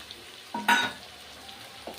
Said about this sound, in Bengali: 5-7 মিনিট রান্না করাটা হয়ে গেছে আদা রসুন দিয়ে